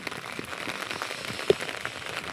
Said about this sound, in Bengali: এই যে বৃষ্টিটা হচ্ছে দেখো, শুধু সেইভাবে বৃষ্টি হচ্ছে।